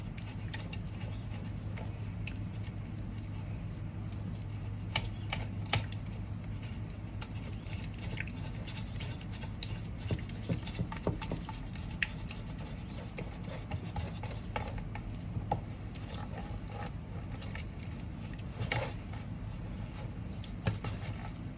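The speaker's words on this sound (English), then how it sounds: "So, I'm just going to mash. Keep mashing." Raspberries and ginger are mashed for granita in a bowl, giving repeated soft rubbing and squishing scrapes at an even, unhurried pace.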